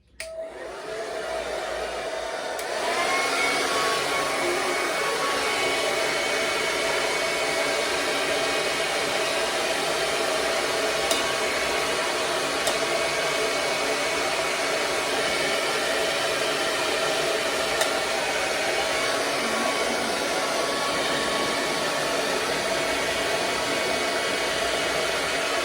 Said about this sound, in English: Okay, sure, I'm gonna use this hair dryer.